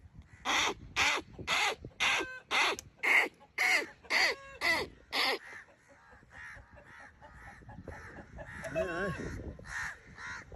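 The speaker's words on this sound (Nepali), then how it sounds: "क्या काग बोलाएको" A crow caws repeatedly in a steady rhythm, about ten loud harsh calls close by, followed by rougher, more scattered cawing and background noise.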